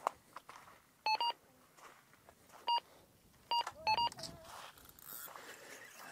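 Electronic fishing bite alarm beeping at a lake where bream are biting, with several short sharp beep bursts at irregular intervals, some doubled, over quiet outdoor background.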